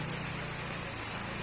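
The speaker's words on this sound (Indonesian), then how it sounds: "Sudah turun hujan lagi." Steady rain falls outdoors on an evening in Indonesia, a dense continuous hiss of drops on surfaces with a low hum underneath, filling the whole stretch evenly without pauses.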